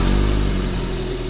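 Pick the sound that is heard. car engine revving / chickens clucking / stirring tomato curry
car engine revving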